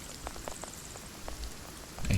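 Light rain falls steadily in the online survival shooter Will To Live Online, a soft, faint patter with scattered drop taps and no voices.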